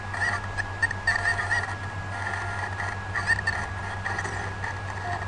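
Chickens in The Legend of Zelda: Ocarina of Time cluck and squawk in short repeated bursts over a steady game hum, heard up close with no talking.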